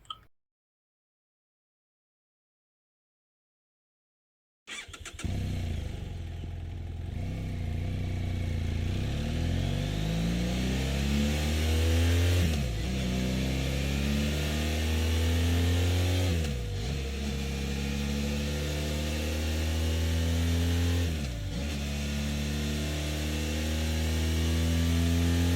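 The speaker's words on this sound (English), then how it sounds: "So let us just first listen to the sound of GS Adventure." BMW F900 GS Adventure motorcycle engine idling and revved alone after a few seconds of silence, with several sharp throttle blips rising and falling over a steady rumbling idle, close and loud.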